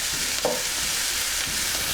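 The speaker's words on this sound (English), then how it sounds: "I'm just going to sweat these onions down for about 3 or 4 minutes." Onions sweating in a pan over low-medium heat, giving a steady soft hiss of gentle sizzling with a brief scrape of stirring, continuous and fairly quiet, no voices.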